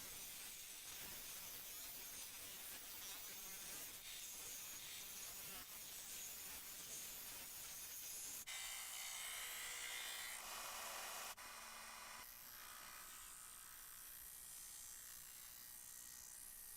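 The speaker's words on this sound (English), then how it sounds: "I'm using the disc sander, sanding away the material until I reach those pencil marks." A disc sander grinds away scrap wood in a workshop, a steady loud whirring hiss that changes character partway through as the wood is pressed against the disc.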